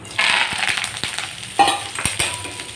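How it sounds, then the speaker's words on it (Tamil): Curry leaves sautéing in a hot pan on moderate heat, a loud close crackling sizzle with stirring scrapes and a few sharp taps, no voices. "இப்போது கருவேப்பிலையை நம்ம போட்டு நம்ம வதக்கி எடுத்துக்கலாம்"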